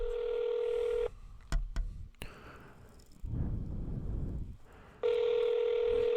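Telephone keypad tones and line signals as a number is dialed to call back a spoof caller, a steady tone, then clicks and crackling line noise, a rushing burst, and the tone returning, heard alone at moderate level.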